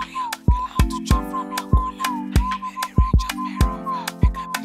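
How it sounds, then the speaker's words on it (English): A single whistled melody line carries over an Afrobeat track in FL Studio, with regular punchy drum hits underneath and no speech. "Could you actually whistle this part?"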